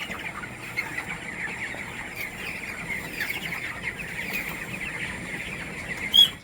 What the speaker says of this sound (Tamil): ஒவ்வொரு கோழியும் அவ்வளோ அழகா சாப்பிடுதுங்க